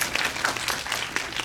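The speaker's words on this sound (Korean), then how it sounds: "박수 부탁드립니다." An audience at a film talk event claps in a brief, steady burst of applause, dense and continuous throughout, with no voices on top.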